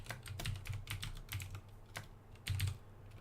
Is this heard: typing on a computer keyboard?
yes